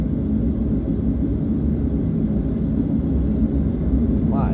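A Southwest Airlines jet on the runway at Ontario before takeoff makes a steady, loud low rumble and broadband engine roar that holds evenly throughout, with no voices.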